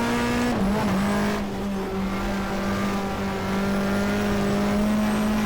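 A race car in the GTR2 video game, at an Australian Manufacturers Championship round at Eastern Creek in 1994 trim, holds a steady high engine drone with a brief gear-change dip, loud and continuous, with no voices.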